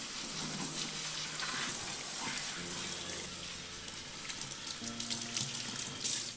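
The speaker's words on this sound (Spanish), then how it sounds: "lava el tallo completo de celery en agua" Tap water runs steadily over a whole organic celery stalk being washed in a kitchen sink, a continuous hiss with small splashes and clatters, no talk.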